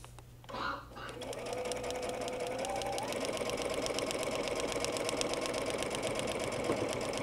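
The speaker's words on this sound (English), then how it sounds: "And we'll keep stitching." A sewing machine stitching paper-pieced quilt fabric, a steady close rapid whir running almost without a break after a brief rustle at the start.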